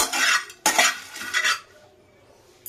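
Whole spices such as star anise and mace are dry-roasted in a pan for kebab masala. Two or three short bursts of rattling and scraping as they are stirred, then a quiet pause.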